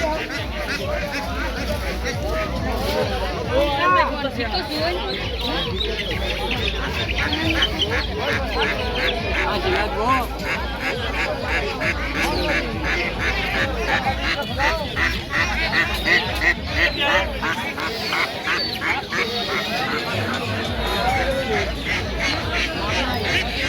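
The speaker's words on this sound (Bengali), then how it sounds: "দর্শক দেখতে পাচ্ছেন বাজারে প্রচুর হাঁস মুরগি উঠেছে" Ducks quacking and honking continuously at a weekly village poultry market, dense and close, mixed with a busy crowd babble and people talking throughout.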